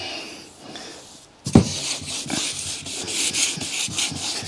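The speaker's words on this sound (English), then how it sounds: "I'm just going to give it a little bit of a rub" Dry 2000-grit sandpaper rubs over lacquered paint on an E46 BMW 330Ci, a soft quiet start giving way after a sudden contact to steady, close, rhythmic scraping strokes.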